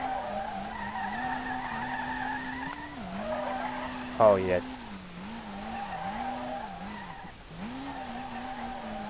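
Tires skid and squeal steadily as a car drifts in the racing game SLRR, a rebuilt R32 Skyline held sideways through a long slide. Engine drone wavers underneath, with a brief sharp screech near the middle, while someone talks throughout.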